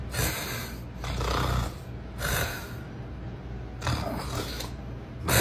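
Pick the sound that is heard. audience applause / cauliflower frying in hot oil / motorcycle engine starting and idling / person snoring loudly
person snoring loudly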